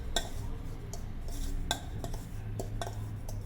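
A spoon clinks and scrapes against a metal bowl while homemade Goan biryani masala powder is mixed, with a steady run of close, light metallic taps and a few sharper chinks.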